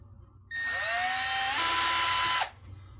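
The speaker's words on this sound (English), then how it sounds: "we can move on to drilling out the holes for the other two brackets" A power drill with a 5/64 inch bit whirs up to speed drilling a small screw hole, its pitch climbing then holding steady with a louder grinding stretch, before winding down abruptly after about two seconds.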